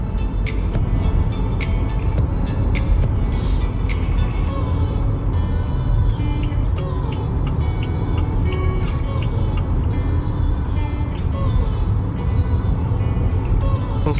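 A turbocharged Haval Jolion from Great Wall Motor accelerates through traffic, its engine and road noise forming a loud, continuous rumble and whoosh, with a little faint talk in the cabin.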